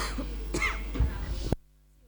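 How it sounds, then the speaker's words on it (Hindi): A close, harsh cough and throat-clearing burst during a religious class at a Jain temple, a few rough hacks in quick succession, then a sudden cut to near silence. "मुझे खांसी हो रही है"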